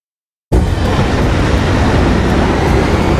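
An armored train rolls along the tracks in Ace Combat 7, a loud continuous rumbling roar that cuts in abruptly after a moment of silence and holds steady to the end.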